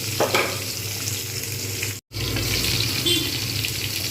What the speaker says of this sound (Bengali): এটা ঢাকনা দিয়ে বেশ দু তিন মিনিট আমি এটা ভেজে নেবো